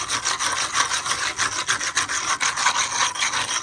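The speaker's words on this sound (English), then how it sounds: "I take a disc in my hand and I basically lightly sand it." A hand-held disc rasps against a sharp concrete rock surface in quick, rhythmic back-and-forth strokes, a close and loud gritty scraping that runs steadily with no voices.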